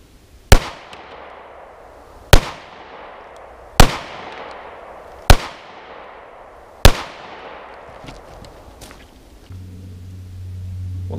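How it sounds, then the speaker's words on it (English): Five sharp pistol shots from an FN57 firing Federal American Eagle 40 grain full metal jacket rounds, evenly spaced about a second and a half apart, each loud crack trailing into a ringing outdoor decay. "shoot this direction with the FN57 loaded with the Federal American Eagle 40 grain full metal jacket projectiles"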